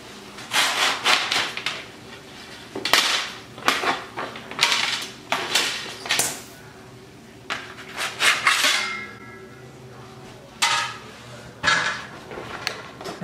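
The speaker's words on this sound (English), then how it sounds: "Now it's time to take the pizza out of the oven." A home-made steak and cheese pizza being taken out of a kitchen oven: metallic clanks of a pan and oven rack, scraping and knocks in irregular bursts, close and fairly loud.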